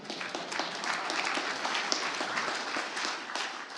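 Audience clapping at a startup pitch night summit, a steady dense patter of many hands filling the room, fairly soft and continuous throughout with no break.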